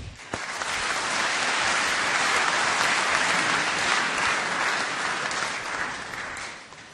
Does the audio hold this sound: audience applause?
yes